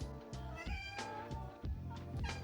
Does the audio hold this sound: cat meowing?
yes